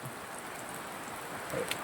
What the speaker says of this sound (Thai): ฝนตกด้วย บรรยากาศโอเค